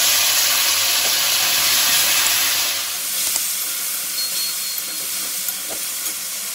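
Tomato, chili and ginger paste sizzles in a hot pan, a loud broadband hiss that is strongest at first and then settles into a steady, softer crackle with occasional small pops.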